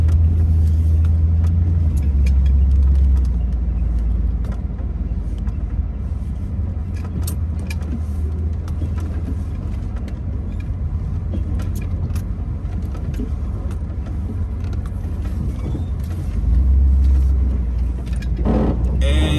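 Two-wheel drive truck rolling through a sandy desert wash, a steady low engine rumble and drone throughout, heard from inside the cab, with a slight swell near the end.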